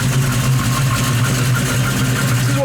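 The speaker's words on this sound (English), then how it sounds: "Just a nice big cam, just a great sound to it." A 1973 Dodge Challenger with a big cam idles close by, its deep, lumpy rumble steady and loud with no talk over it.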